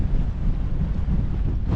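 Force 8 gale roaring across a clifftop at Migra l-Ferħa in Malta, a constant loud buffeting rush of wind battering the microphone for the whole stretch, with no voices.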